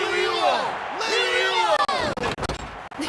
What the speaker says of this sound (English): Exhilarating cheers of the crowd